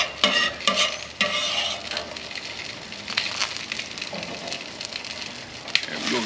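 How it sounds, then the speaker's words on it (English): A spatula scrapes cooked eggs across a Camp Chef four-burner griddle, with repeated close, gritty scrapes over a continuous frying sizzle. "While I'm scraping on here so that it helps out the cleaning process here in a little bit."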